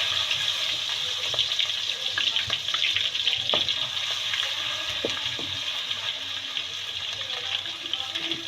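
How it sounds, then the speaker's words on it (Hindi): Garlic and ginger fry in oil as a blended tomato, onion and chili masala cooks, giving a steady close sizzle with occasional sharp clicks and stirring sounds, no voices. "इसमें जो ये लहसुन अदरक है, अब ये ऑयल में हम डालेंगे,"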